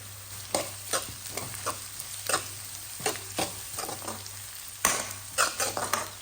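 Egg fried rice with scrambled egg is stir-fried over a high flame: a continuous sizzle broken by quick, rhythmic spatula strokes scraping and tossing the rice in the pan.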